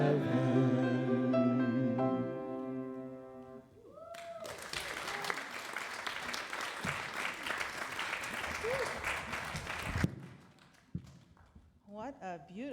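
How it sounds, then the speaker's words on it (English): An audience claps in a long, steady burst of applause after a music team finishes a sung performance at a church service, following a sustained final vocal and instrumental chord, with a voice speaking briefly afterward. "Let's applaud them again."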